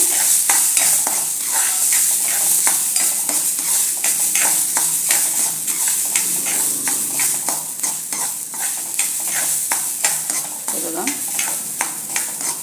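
Broken rice being roasted in ghee in a pan, with a constant fine sizzle and quick, rhythmic scraping strokes of a spoon stirring throughout.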